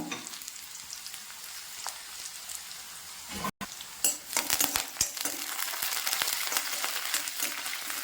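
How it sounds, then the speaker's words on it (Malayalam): Small shallots with mustard seeds fry in a pan, a soft hiss that grows louder after a brief break, with faint metallic clinks and popping crackles close by. "ചെറിയ ഉള്ളി മൂക്കണം നന്നായിട്ട്."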